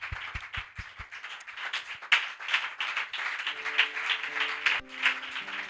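A church congregation acclaiming the Lord with rhythmic clapping and cheering, several sharp claps first, then a dense, swelling wash of hands and voices alongside a sustained organ-like tone.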